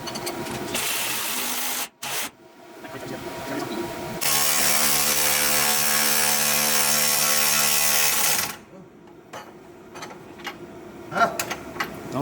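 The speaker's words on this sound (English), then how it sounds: "now I'm going to take a 15/16 wrench and socket and go ahead and torque these down" A ratchet wrench with a 15/16 socket torques bolts on a three-link suspension and steering install on a Jeep Cherokee XJ, with bursts of clicking and a long steady whirring stretch in the middle, close and loud with no talking.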